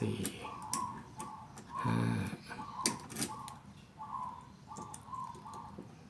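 Small metallic clicks from picking a wafer door knob lock, a handful of light, sharp ticks spaced irregularly, close by and fairly quiet, with soft cooing birdsong in the background.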